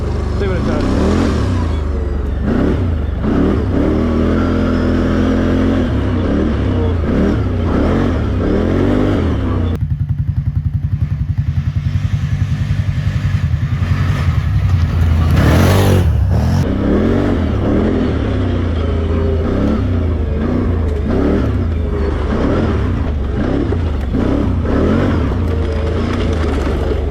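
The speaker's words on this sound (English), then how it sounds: "That is quite a different machine when you put it in four-wheel drive, because it doesn't spin, it hooks better" A Can-Am Renegade 1000 ATV in four-wheel drive revs hard and close, with its engine rising and falling through repeated throttle bursts. Someone talks over the loud, continuous engine noise.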